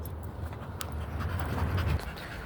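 A dog pants quickly and steadily at close range, the breathy rasps holding a constant rhythm for a couple of seconds while no one speaks.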